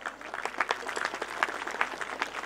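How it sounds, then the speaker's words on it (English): Audience applause welcoming the chief guest at a school annual function in Punjab: steady dense clapping from a crowd, moderately distant and continuous for the whole stretch, with no talking. "Please welcome him with huge round of applause."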